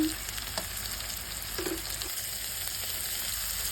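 Food fries lightly in a pan with garlic paste, giving a steady hissing sizzle throughout with a few soft clinks and stirring scrapes. It is fairly quiet and close.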